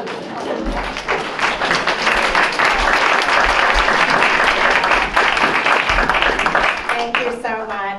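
A room full of people breaks into loud, steady applause that keeps going for several seconds, with some whoops and a speaking voice emerging near the end.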